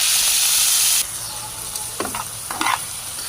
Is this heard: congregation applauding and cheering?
no